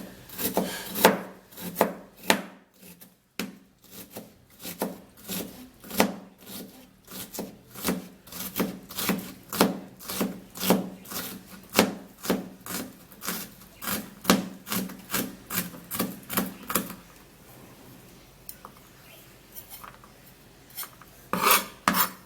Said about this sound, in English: you cut the onion in very tiny pieces.